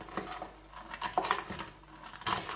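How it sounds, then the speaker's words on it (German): A knife chops pastry dough into small pieces on a board, giving faint, irregular soft knocks and taps in a quiet kitchen. "Erstmal müssen wir jetzt den Teig ziemlich klein schneiden,"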